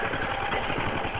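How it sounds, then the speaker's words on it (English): A Tecumseh 6.5 hp 196 cc engine on a mini bike runs steadily up close, a loud, even drone with a fast pulsing beat and no voices. "I got my mini bike up and running. It's just running right now."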